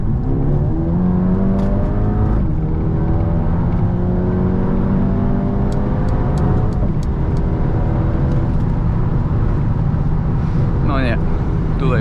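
A 2019 Mercedes-AMG A35 with automatic gearbox and 350 hp pulls hard from 100 to 200 km/h, its engine droning loud and steady from inside the cabin with rising pitch and brief dips at gear changes.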